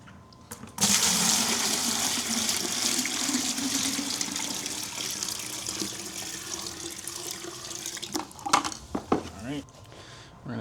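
Water gushes steadily into a bucket from a tap for several seconds, a continuous close rushing that ends with some brief handling knocks and clunks.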